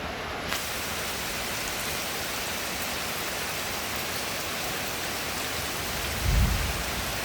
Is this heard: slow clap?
no